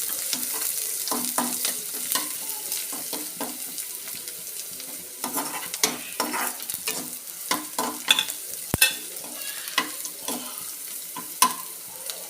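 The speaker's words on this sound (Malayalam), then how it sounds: "കായം എല്ലാം കൂടി ഇട്ടൊന്ന് ഇളക്കുകയാണേ." Ginger, garlic, asafoetida and a curry mixture being stirred in a hot pan, with a steady sizzle punctuated by repeated scraping and knocking of the spoon against the pan, close and without talk.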